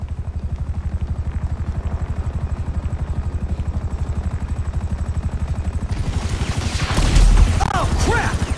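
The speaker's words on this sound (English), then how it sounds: "Chopper!" A helicopter in GTA 5 chases the player with a loud, steady rhythmic rotor thump, joined near the end by crashing and clattering impacts.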